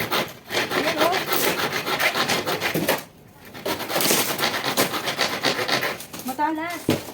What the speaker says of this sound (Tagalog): Matalas yung magari.